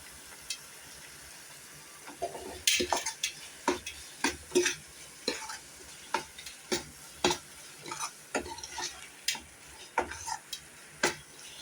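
Coconut sweet mixture being stirred in a pan on the stove, a run of regular close scraping and clicking strokes over a faint sizzle, with no talking.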